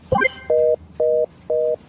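A phone line goes dead after a call is cut off, leaving three short, evenly spaced electronic beeps of the disconnect tone after a brief noise at the start.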